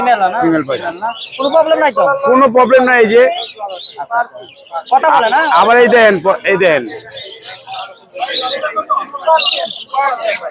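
Caged birds at a pet bird market in Mirpur chirp and squawk in sharp, repeated bursts, loud and close, while people talk over them.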